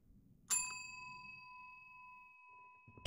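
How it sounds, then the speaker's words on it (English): A single bell rung in a haunted apartment horror video game, one bright struck ding at the start that rings on with long sustained overtones, followed by a faint thud near the end. "Okay, it's been rung a fifth time."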